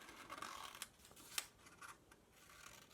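Quiet, close scissors snip through paper in a few sharp, irregular cuts with soft rustling in between.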